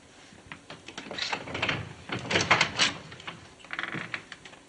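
A cabin door aboard a submarine opening, a series of close mechanical clunks, latch clicks and scraping knocks coming in uneven bursts, with no talking.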